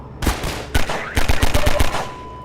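Gunfire in Half-Life 2: loud close bursts, an isolated shot or two, then a rapid run of evenly spaced automatic shots that trail off.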